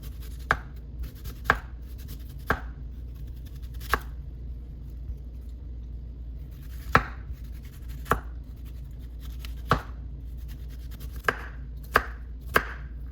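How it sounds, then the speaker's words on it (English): A knife chops an onion into smaller pieces on a cutting board, about a dozen crisp separate strikes at an uneven pace over a quiet kitchen background, with no talking. "cut up my onion that I'm gonna be frying on the stove top with my tomato paste. So I'm just gonna cut these into smaller pieces."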